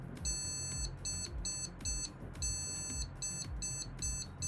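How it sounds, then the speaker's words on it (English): A PC motherboard on a new 14900K build with a 4070 gives error beeps, one long then three short. The electronic tones repeat in a steady pattern over a low rumbling hum. "1 long and 3 short beeps."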